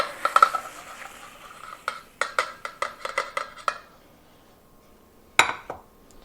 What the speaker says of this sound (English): Take my handy dandy spoon and give these a mix.